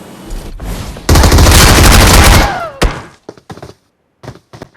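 Loud, close bursts of gunfire in the BGMI/PUBG battle royale game: a sustained dense volley of rapid shots, then a sharp single crack followed by scattered shorter bursts trailing off into brief gaps.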